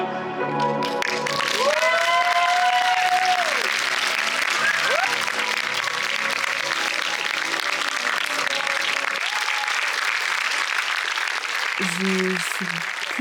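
A full hall at a French talk on creativity breaks into steady, enthusiastic applause that carries on for over ten seconds, with a voice speaking over the clapping early on and again near the end.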